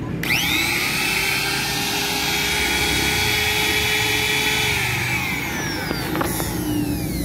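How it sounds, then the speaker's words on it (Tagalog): A KEELAT wood trimmer palm router with a cast aluminum body runs with no load, a steady high-pitched motor whine held close and loud, easing down near the end. "pakinggan muna natin yung tunog ng ating palm router na wala pang load kumbaga"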